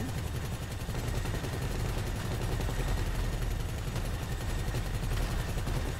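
Rapid, continuous automatic gunfire rattles through a dense, noisy firefight in GTA 5 Online during a heist, with steady bursts layered under a constant roar of battle.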